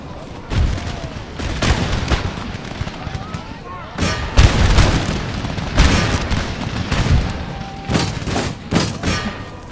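Musket volleys and booming artillery from the Empire: Total War video game crack out in repeated loud bursts, with spells of irregular firing between the heavy thuds and some speech mixed in.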